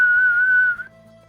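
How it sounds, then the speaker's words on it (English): A single sustained whistle tone holds steady for under a second before cutting off, leaving a faint low hum behind. "There is a sound of a whistle distantly."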